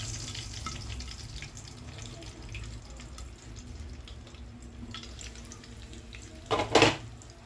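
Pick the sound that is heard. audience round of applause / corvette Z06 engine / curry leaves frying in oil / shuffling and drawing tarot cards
curry leaves frying in oil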